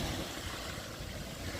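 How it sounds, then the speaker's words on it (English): Sea waves break on the pebble beach at Dover, a steady broadband wash of surf that stays close and fairly loud throughout, with no pause or voice. "I love the sound of the waves."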